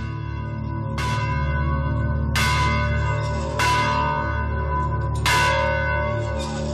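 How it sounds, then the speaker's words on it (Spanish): Church bells rung in a joyful festive peal for a special occasion, four loud resonant strikes a little over a second apart, each ringing on and overlapping under a steady humming drone. "Abilio echaba las campanas al vuelo. Un toque muy alegre que solo se daba en ocasiones especiales"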